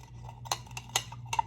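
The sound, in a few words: stirring food in a pot with a utensil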